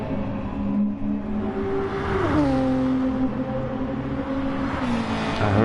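A Nissan GTR race car in a racing video game at the Red Bull Ring: a sustained engine whine that rises, drops sharply at a gear change, then climbs again at steady loudness.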